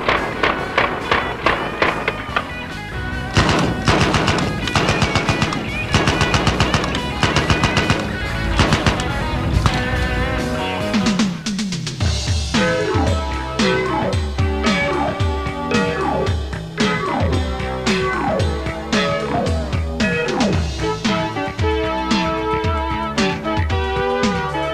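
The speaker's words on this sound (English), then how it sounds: "The slow rate also allows for a controllability when firing bursts, as the gun's recoil is very slight." Full-auto machine gun bursts ring out in rapid repeated strings of sharp reports, loud and close, with music playing underneath.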